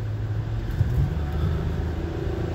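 A car drives through Chicago on a Saturday night, passing the former Cabrini Green and Robert Taylor Homes areas, with a steady low engine and road rumble heard from inside the cabin and no talking.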